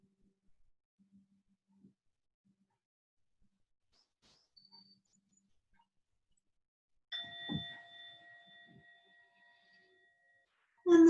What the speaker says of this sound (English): And the bell has sounded